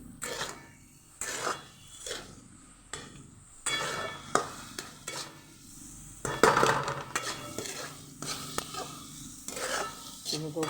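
Eggplant masala sautéed in a pan as the oil separates, with repeated scraping stirs of a spatula against metal, soft sizzling underneath, and a few sharper clatters partway through.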